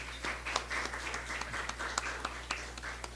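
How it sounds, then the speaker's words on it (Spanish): Audience applause at a national archaeology congress in Peru: a room of people clapping steadily at moderate distance, a dense patter of many hands held at an even level for a few seconds. "el doctor Rafael Vega Centeno, para quien pido un aplauso"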